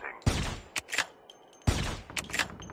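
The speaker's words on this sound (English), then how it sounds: "I'm sniping these guys." Sniper rifle shots in Call of Duty Mobile battle royale: two loud, sharp cracks about a second and a half apart, each followed by brief mechanical clicks and echoing tails.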